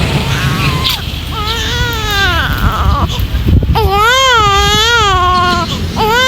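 A baby wails loudly and persistently, with rising and falling cries in several long bursts, close by.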